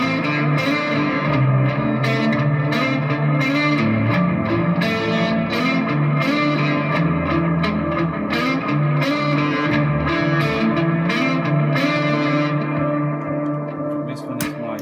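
Electric guitar played through a Joyo PXL Pro pedalboard with amp distortion, a sustained, dense, driven tone running continuously and loud with chords ringing out, thinning slightly at the end.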